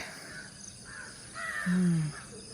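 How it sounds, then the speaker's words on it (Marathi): Crows caw outdoors, a couple of distant calls followed by one louder, closer caw over a faint steady background hum. "कावळे"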